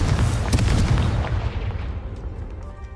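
A Confringo blasting curse detonates in Hogwarts Legacy, a loud, deep explosive boom with crackling bursts that rumbles on and fades out over a few seconds.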